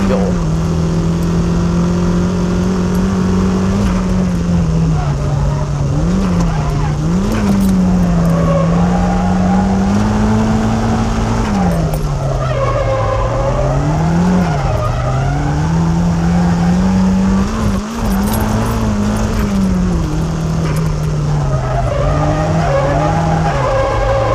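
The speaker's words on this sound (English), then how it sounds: "I'd like to demonstrate the different drifting procedures with different cars." A car drifts around a hairpin curve on the Maze circuit, tires squealing in a long continuous wail that bends up and down in pitch over the engine's loud drone, close and sustained.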